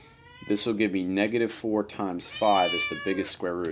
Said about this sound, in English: sorry that the cat is jumping on the computer and screaming while I'm trying to do this here